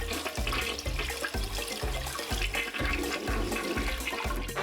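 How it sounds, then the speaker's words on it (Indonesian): A toilet flushes in a room with water rushing steadily throughout, backed by a rhythmic, pulsing low thump, likely background music. "Sekarang siram."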